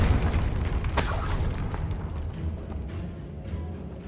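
A Confringo blasting spell in the video game Hogwarts Legacy bursts with a booming explosion and a crackling, shattering tail that rumbles away over about four seconds.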